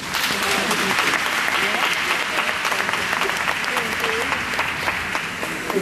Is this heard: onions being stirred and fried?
no